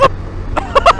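Motorcycle airbox pops like a KTM Super Duke's, sounding as several short, sharp bursts close by, one at the start and a quick cluster near the end, over a low engine idle.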